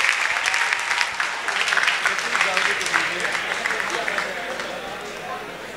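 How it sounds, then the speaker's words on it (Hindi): Students at a seminar hall clap together in a loud, busy burst that gradually thins out, with scattered voices mixed in among the audience. "तालियां तालियां होनी चाहिए"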